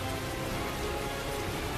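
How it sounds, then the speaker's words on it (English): Rain falling in the Tales of Zestiria video game on PlayStation 4, a dense, steady patter of drops striking surfaces, continuous and even throughout with no talking. "Oh shoot, it's raining."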